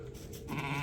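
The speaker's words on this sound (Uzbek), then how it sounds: "Mana akadan qo'ylar qarang" Ewes on a farm bleat loudly and close by, one drawn-out call rising over a continuous low background with no talking.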